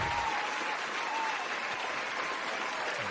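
A studio audience's applause forms a dense, continuous wash of many clapping hands, steady and loud throughout without a break.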